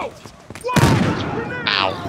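A grenade blast in the shooter game Battlefield Hardline erupts as a sudden loud boom, then a long rumbling, crackling tail mixed with gunfire-like bursts, while a voice talks over the action.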